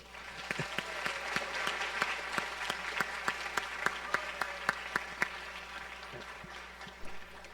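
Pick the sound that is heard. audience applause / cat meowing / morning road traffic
audience applause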